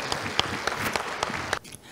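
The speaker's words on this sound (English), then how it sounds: "A big round of applause for Mr." Audience at a ceremony in New Jersey honoring an Indian-American guest breaks into steady, moderately close applause for about a second and a half, then it drops off abruptly into quieter room noise.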